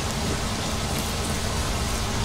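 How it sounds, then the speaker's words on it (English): Steady heavy rain falling in the video game Skyrim, a dense even hiss filling the whole moment without letup, loud and close, with no voices over it. "And it's raining cats and dogs out here."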